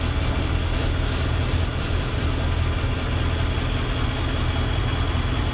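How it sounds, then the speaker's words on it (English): An Infiniti QX80 SUV, being checked for P0420 and P0430 catalyst codes, idles after a short drive with its exhaust running: a steady, close, low engine drone with no talk. "Don't touch that exhaust, that shit is hot."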